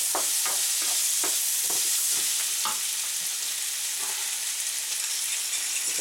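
Vegetables sizzle steadily in a hot pan with sauce, broad hiss throughout and a string of soft scraping clicks as they are stirred, close and loud with no voices.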